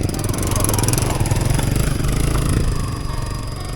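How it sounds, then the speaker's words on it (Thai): A motorcycle in a rural Laotian village runs steadily and close by, a continuous engine drone with a clattering idle that eases slightly near the end. "อันนี้คือรถมอเตอร์ไซค์เขาจะเอาไปตลาดตะลี่นี่แหละ"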